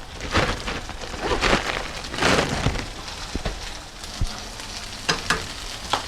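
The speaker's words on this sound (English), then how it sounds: "I'm gonna add a good handful of my frozen peas" A good handful of frozen peas frying with garlic in a hot pan, a loud, close crackling sizzle with bursts of spitting and occasional sharp pops from stirring.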